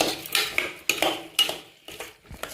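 A spoon stirs salt and turmeric powder into pumpkin and peas in a pan, giving several sharp metal scrapes and clinks at an uneven pace, close and clear with no voices.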